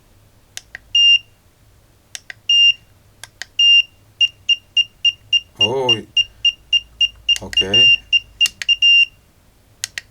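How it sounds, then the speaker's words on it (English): An electronic temperature module gives a long series of short, high beeps, first spaced out and then in rapid succession, while a person speaks briefly in between; it beeps at around 20 degrees. "Right now it's beeping because it's around 20 degrees."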